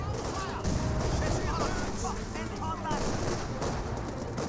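Battle gunfire in Company of Heroes, a dense continuous clatter of small-arms and heavier shots at moderate distance with a dull background rumble and no pauses.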